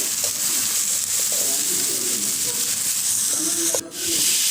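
Chicken pieces for an Assamese curry, with potato and pumpkin, sizzle steadily in an open pan while being stirred, a continuous close hiss with faint scraping, broken by a brief dip near the end.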